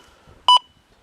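A metal detector gives one short, clear beep as its coil passes over a nickel buried among nails in iron-littered ground, sounding alone against quiet background.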